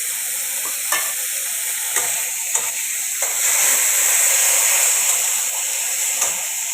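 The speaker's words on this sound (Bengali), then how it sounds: "এখন আমি টমেটো কুচি পেঁয়াজ কুচি একসাথে দিয়ে দিলাম।" Chopped tomato and onion sizzle steadily in a small amount of oil in a pan. A spoon stirs them now and then, making light scraping clicks.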